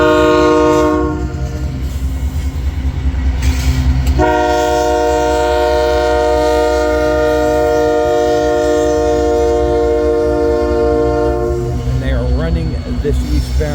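An eastbound loaded coal train led by Union Pacific locomotives passes near Fremont, Nebraska, its horn blaring in long loud blasts over the steady rumble and clatter of the cars.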